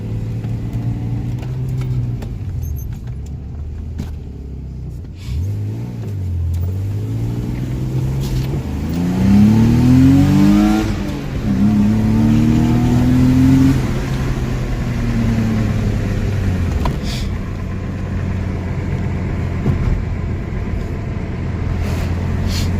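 A BMW E36 with an M50 manifold swap accelerates hard, its engine rising in pitch through the gears with a loud, sustained drone and a brief dip at a shift.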